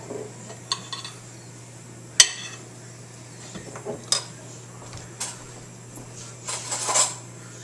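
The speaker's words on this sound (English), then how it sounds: "And I'm going to grab another spoon." A spoon and dishes clink and clatter in a home kitchen, scattered light metallic taps and knocks over a low steady hum.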